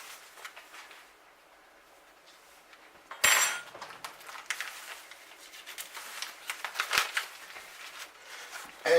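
Metal utensils clink and scrape against a pot while a seafood gumbo is stirred with a fork or whisk, making irregular close-up taps and rattles that grow busier toward the end, with no talking.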